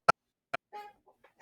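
Chickens give a few short, sharp clucks and soft murmuring calls, close by and fairly quiet, with gaps of silence between them.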